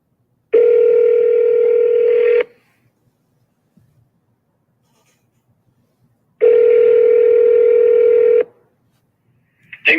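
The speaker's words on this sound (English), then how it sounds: "let's get Mike on the phone. Here we go" Two long, loud electronic telephone tones, each lasting about two seconds and separated by silence, sound like a call ringing out on the line, with a brief click at the end.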